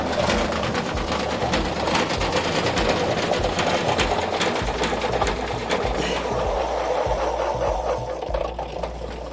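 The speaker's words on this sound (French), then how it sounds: "This is the washing machine bike." A pedal-powered washing machine bike runs with a steady mechanical whirring and rapid rhythmic clatter, continuous and close, with birds cooing faintly in the background.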